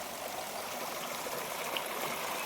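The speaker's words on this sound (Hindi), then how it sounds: "हम अब झरने की तरफ बढ़ते हैं।" Water rushes along a stream near a waterfall in a lush green area after light rain, a steady, fairly soft rushing flow with faint trickling detail and no voices.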